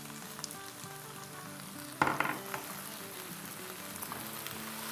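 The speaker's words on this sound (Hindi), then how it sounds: "देखिए यहाँ अच्छे से फ्राई हो रही है ये प्याज़े, हरी मिर्च और भिंडियाँ" Okra, onions and green chillies fry in oil with a soft, even sizzle, a sharp stirring clatter midway and a few lighter clicks, all under quiet background music.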